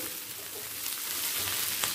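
Close-up sizzling of chopped green chilli frying with onions in hot oil, a steady crackling hiss that grows slightly louder, with no voices.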